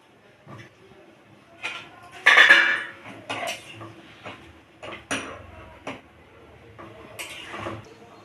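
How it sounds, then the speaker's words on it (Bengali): Fried potatoes go into a pot of chicken curry with sharp metallic clatters of spoon on pot, a louder clank near the middle, then scattered knocks and scrapes. "এবার আলু ভেজে রাখা আলুগুলো দিয়ে দেবো"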